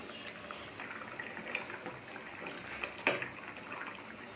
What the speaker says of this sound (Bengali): ঝোল ফুটছে